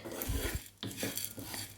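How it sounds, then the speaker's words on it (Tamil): Spices being dry roasted in a pan over a medium flame for chicken gravy, with scraping and stirring clatter of a utensil against the pan, a few louder knocks among continuous rasping. "இதை சேர்த்துட்டு நம்ம நல்லா வந்து ட்ரை ரோஸ்ட் பண்ணிக்குவோம்"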